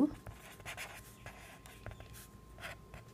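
Pen or pencil writing out a step of a geometry construction for a class 6 maths exercise, with soft, close scratchy strokes in short intermittent bursts over quiet room tone.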